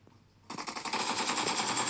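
Automatic gunfire in the mobile battle royale game PUBG Mobile starts abruptly after a quiet moment and continues as a dense, sustained burst close by.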